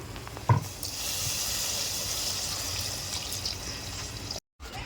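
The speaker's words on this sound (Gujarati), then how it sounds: "હવે આપણે રેડ દેવું એની અંદર પાણી." A quick thud, then a loud hissing sizzle as water hits a hot pan of potato curry, continuing steadily before cutting off abruptly.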